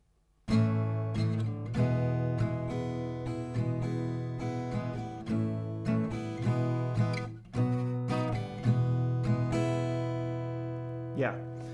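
Acoustic guitar strumming a song slowly from the beginning, with steady chord strums ringing out for several seconds and a brief string squeak near the end; close and alone.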